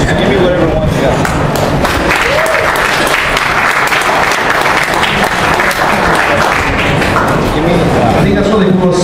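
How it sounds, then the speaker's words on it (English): Audience applause at a Corsair CES 2013 product launch, a steady wash of hand clapping lasting several seconds, fairly close and full, with a voice speaking over it. "I think that's what they call a spattering of applause"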